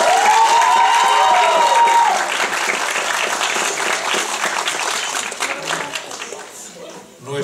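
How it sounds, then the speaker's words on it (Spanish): Audience applause for a school theatre group from a Bucharest national college staging a Spanish comedy, a sustained wash of clapping from a crowd that continues for several seconds while a voice speaks over the start. "Nuestro aplauso."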